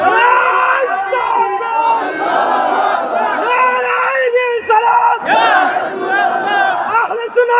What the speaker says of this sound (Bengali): আমার কথার সাথে কারা কারা একমত হয়ে হাত তুলে স্লোগান লাগান